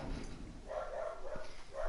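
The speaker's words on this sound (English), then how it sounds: "Sorry about my dogs." Dogs bark in the background, a short run of muffled, fairly distant barks over a low room hum.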